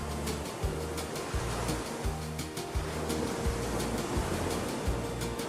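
Ocean surf rolls onto the open sea shore by a Brazilian beach village with colorful boats resting near the water, a steady broad wash with low rhythmic swells breaking every second or so, moderately loud and with no voices.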